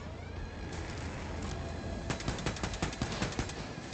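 Enemies in the video game Wolfenstein II fire guns in rapid bursts of automatic fire, rattling loudly through a dense wash of game noise and growing busier toward the end.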